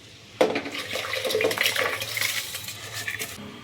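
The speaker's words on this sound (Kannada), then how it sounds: "ನೀರು ಹಾಕಿ" Water poured into a biryani pot over salted, spiced rice, a splashing, clattering pour against the metal vessel lasting a few seconds, fairly quiet with no talk.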